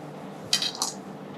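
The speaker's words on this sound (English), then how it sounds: "And then just put the knife in." A knife pushes into a hazelnut praline crunch cake, producing two quick crisp clinking crunches close by over a quiet background.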